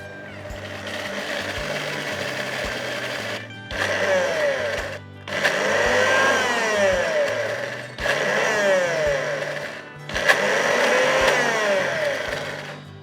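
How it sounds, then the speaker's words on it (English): A Hamilton Beach Professional blender whirs through a chicken wing marinade in loud, close bursts, running about three seconds each with short pauses between, and the motor pitch shifts as the mixture churns. "Close the lid and then just blend it. This time round, I'm going to go with the manual setting and then just press start."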